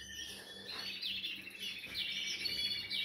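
Young birds, recently weaned chicks, chirp in quick high bursts nearby, a few separate calls over a soft steady background hum, with no voices.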